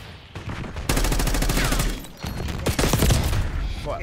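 Rapid, loud gunfire bursts from a pistol in the shooter game Black Ops 6, shots crackling in quick succession with brief pauses between volleys.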